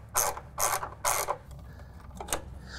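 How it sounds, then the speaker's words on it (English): Three loud, close ratchet strokes loosen cover bolts on a John Deere X320 riding mower, followed by softer, quicker clicks and a faint metallic tick. "Now, we are going to start loosening up our bolts here on our cover."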